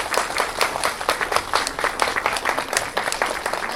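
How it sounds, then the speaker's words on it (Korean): A church congregation applauds steadily, many hands clapping together in a dense, lively burst that carries on without a break. "우리 김영호 목사님 나오실 때 뜨거운 박수로 부탁드리겠습니다."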